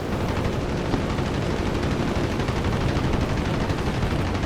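Continuous rapid machine gun fire from the .50 cal guns of a P-26 Peashooter in War Thunder, a dense, loud and unbroken rattle that lasts the whole stretch.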